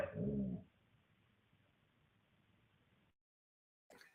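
A man imitates a dog with a short, loud bark-like yelp at the start, followed by a few seconds of low hiss and a brief sound at the end.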